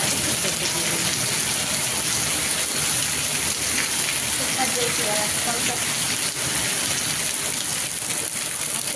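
Heavy rain pours down in a constant, dense hiss that stays loud and unbroken throughout.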